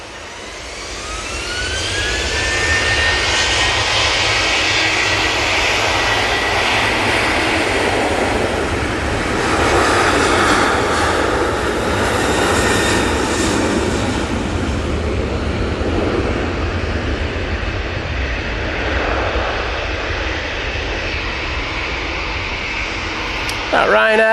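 A Ryanair jet airliner taking off at Manchester Airport gives a broad, loud roar that swells over several seconds and then slowly fades, heard from a distance outdoors with a steady rushing wash throughout.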